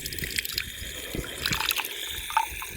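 Water runs from an iron drinking tap at a public water stand on a hilltop shrine. Irregular splashing and trickling drips go on close by, with no voices.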